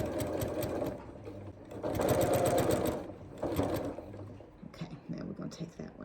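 A household sewing machine stitching along a scrap-fabric tail, its motor whirring in steady runs that start and stop, with brief pauses and soft handling noises between bursts.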